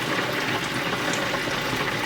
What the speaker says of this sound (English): you can hear the deep fryer really bubbling